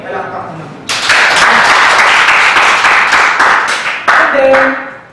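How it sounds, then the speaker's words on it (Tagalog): Listeners at a business presentation break into loud, close applause after a short spoken lead-in, with clapping that holds steady and then tapers off as a voice returns near the end. "Palakpak mo na."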